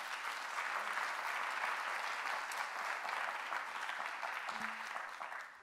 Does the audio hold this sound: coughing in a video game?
no